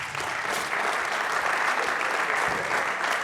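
An audience claps steadily for a coach in a dense burst of applause lasting a few seconds, close and full, with no clear voices.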